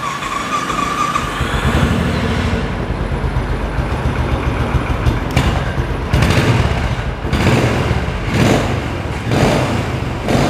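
A 2020 Royal Enfield Bullet 500 Classic motorcycle with its stock exhaust and about 16,000 km on it idles close by, a steady, loud thumping rumble with a few slightly heavier pulses and no talk.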